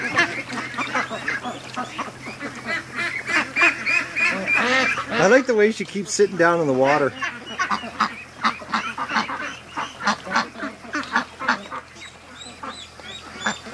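Ducks at a lake honk and quack in bursts, loud and close, with one long rising call in the middle, while someone talks over them.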